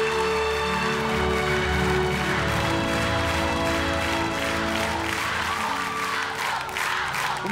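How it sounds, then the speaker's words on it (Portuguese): Applause from an audience fills the clip, with clapping and crowd noise over steady tonal music underneath, continuous throughout. "Uma salva de palmas, gente."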